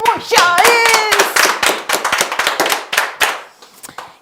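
A studio audience claps loudly for The Muchais family, a burst of sharp, close hand claps that thins into scattered claps and trails off, with a brief voice at the very start.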